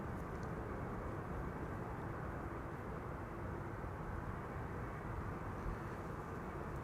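A distant airliner arriving at Amsterdam Schiphol Airport, heard as a steady, broad low engine rumble and roar that holds constant throughout, with no talking.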